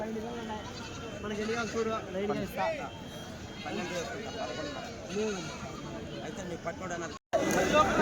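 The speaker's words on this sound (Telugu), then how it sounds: "ఎట్లన్నా ఇవి మేకపోతులు" Male goats bleat repeatedly at the weekly Tuesday goat market in Kadiri, their calls mixing with people chatting close by.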